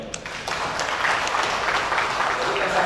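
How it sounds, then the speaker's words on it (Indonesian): An audience at a police press conference in Jambi breaks into steady applause, dense clapping that carries on evenly for a few seconds. "Luar biasa, tepuk tangan Polda Jambi."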